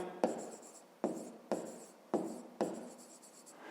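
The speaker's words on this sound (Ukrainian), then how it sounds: "Ну що ж, пишемо тоді друге" A pen writes on paper in five short bursts of scratching, each starting with a tap and trailing off, close and quiet, while working a grade-five maths exercise.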